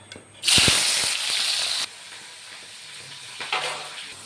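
Onions hit hot oil in a pan where potatoes were just fried, giving a sudden loud hiss and sizzle that holds steady, then drops to a softer continuous crackle with a brief flare near the end.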